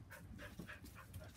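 Dogs give soft, rapid yips and whimpering barks in quick succession, about five short pulses over a second, faint and distant-sounding.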